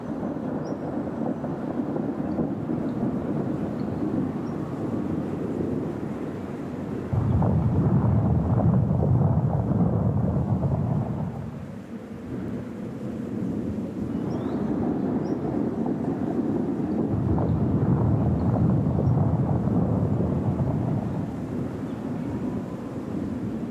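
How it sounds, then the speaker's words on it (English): Distant thunder rolls over the high Altiplano plateau, two long low rumbles swelling and fading over a steady windy background, with no voices. "I want to stop and watch the storms go by."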